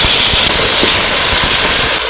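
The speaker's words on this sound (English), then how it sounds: "I'm going to go ahead and add some cooking oil in. Using a stick and then I'll let my onions fry to golden brown" Onions fry in cooking oil in a pot during rainy-season village cooking, giving a loud, continuous hiss and crackle that stays steady from start to finish.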